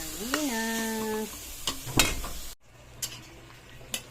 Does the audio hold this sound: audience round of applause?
no